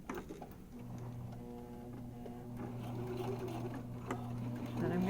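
A sewing machine back stitching a zipper seam, a faint steady whirring hum with light patter that runs for most of the stretch and gets slightly louder toward the end.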